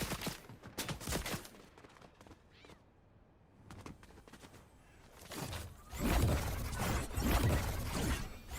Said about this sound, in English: Where's that guy shooting?